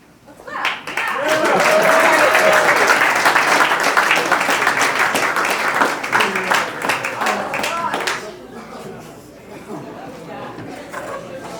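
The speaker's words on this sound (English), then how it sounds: "Let's clap." Wedding guests clapping at a reception, applause building quickly to a loud, dense burst that holds for several seconds, then tapers off with chatter and a few scattered claps continuing.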